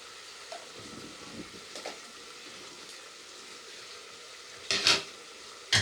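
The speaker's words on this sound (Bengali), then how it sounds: "আলুটা দিয়ে আবার একবার ডালের সাথে একটু নেড়ে দিলাম" Fried potatoes being stirred into dal in a pot, soft scraping and stirring sounds with a faint sizzle, ending in a couple of louder clinks of a spoon against the pot.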